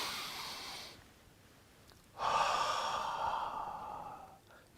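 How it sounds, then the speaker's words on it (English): A long, deep breath drawn in and let out slowly, a soft airy inhale followed by a fuller, steady exhale, close and alone with no talk. "Take a deep breath."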